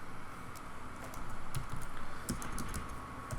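Quick, uneven clicking of keys on a computer keyboard as text goes into notepad, close and clear over a soft background hiss, with no speech.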